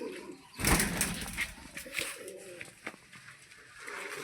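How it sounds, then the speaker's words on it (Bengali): Pigeons kept for sale, including Madrasi birds, cooing in soft repeated throaty bursts with a brief flutter of wings early on, close by and fairly quiet. "আসুন পায়রাগুলো সব করি এক তো দেখাই কি কি পায়রা আছে"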